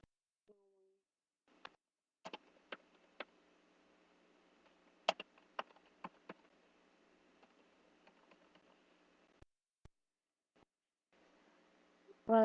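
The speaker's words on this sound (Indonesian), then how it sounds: "saya ketik aja." Faint, scattered clicks of typing on a computer keyboard in a quiet room, with a soft hum under the keystrokes and long gaps between isolated taps.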